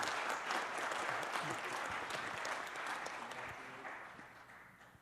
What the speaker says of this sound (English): Let's give Adonis another round of applause.